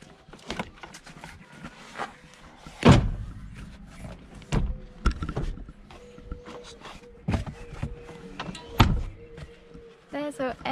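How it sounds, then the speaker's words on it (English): Folding seats close inside an overland Land Rover Defender camper, giving a series of loud thunks, clunks and rattles spread irregularly across several seconds, with a person speaking between the knocks. "So now we're gonna close the seats."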